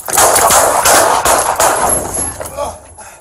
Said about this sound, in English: Kano 1, shots fired.